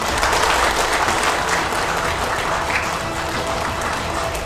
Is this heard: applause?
yes